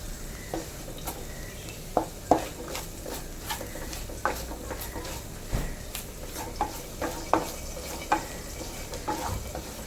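Spice powder roasts in a pan while being stirred, with a steady dry sizzle and repeated sharp spoon scrapes and taps for fish curry.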